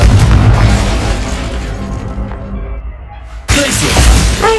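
Confringo fire spell blast in Hogwarts Legacy: a loud, booming explosive burst with crackling debris that decays over a few seconds, followed by a second sharp impact and rumbling crash.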